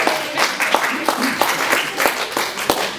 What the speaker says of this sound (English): so could you give him a round of applause?